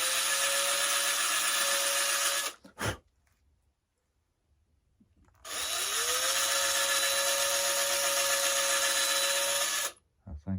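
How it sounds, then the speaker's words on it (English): A power drill whines loudly and steadily for a couple of seconds, stops, then runs again for several seconds after a pause, close by, drilling into a Top Flite C-47 model airplane. "I better not drill that all the way through."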